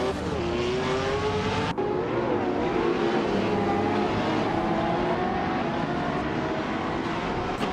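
Race cars launching at the start of a race at New Jersey Motorsports Park, among them a 2019 McLaren Speedtail, engines roaring loudly and continuously as they accelerate, with pitch rising in long sweeps.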